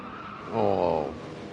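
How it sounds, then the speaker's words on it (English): A race car in a simulator race goes into a big slide through a corner, its tires squealing in a short, rising screech over a steady engine drone, with no talking. "Falcon having a big slide through No Name, and Mist going off on the exit of No Name"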